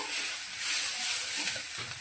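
Onion samosa filling fries with turmeric, pepper powder and salt in a pan, giving a constant close sizzle with faint stirring and no voices.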